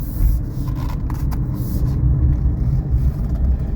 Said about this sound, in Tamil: ஏதோ வண்டி வருது